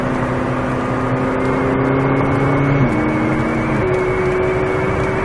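A 2016 McLaren 570S Coupe driving on a track, a steady loud engine drone with gear shifts stepping the pitch, heard from inside the car without talk.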